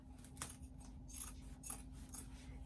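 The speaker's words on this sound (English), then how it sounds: "we're going to trim that seam down to 1/4 of an inch" Fabric scissors trim a sewn seam down to a quarter inch on a vintage expandable tote, giving a few quiet, crisp snips spaced apart over a steady low room hum.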